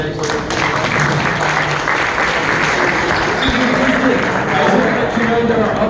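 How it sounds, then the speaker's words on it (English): A room full of people applauds at a mayoral campaign event in Houston, steady dense clapping filling the space for several seconds, with murmuring voices mixed in beneath it. "You give yourselves a round of applause, actually."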